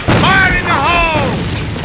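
Grenade blast in an online military shooter, a loud low boom with a rumbling tail that fills the short stretch, while a voice shouts over it.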